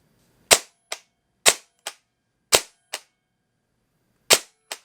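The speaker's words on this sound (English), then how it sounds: "Just listen to the sound of when the gun fires. It sounds almost instant." A G&G ARP9 airsoft gun with precocking fires single shots, each a sharp crack followed by a softer echoing click, four pairs with uneven gaps between them, loud and close with no talking.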